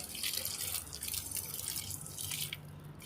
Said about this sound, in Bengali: আজকে গাছপালাগুলো একটু জল দিতে এলাম